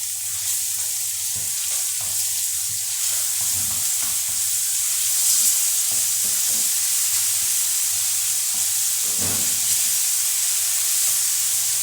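Vegetables with tomato paste sizzling loudly in a pan for bulgur pilaf, with a constant bright frying hiss and scattered low scraping and clinking as the mixture is stirred.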